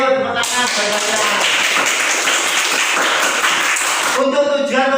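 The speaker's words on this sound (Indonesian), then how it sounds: "Yuk, tepuk tangan banyak-banyak." Classroom of students applauding, a dense burst of steady clapping that fills about four seconds, with a voice speaking just before and after it.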